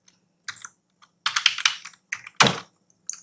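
Typing on a computer keyboard while writing HTML code, with short bursts of close, crisp key clicks separated by brief pauses and no voices.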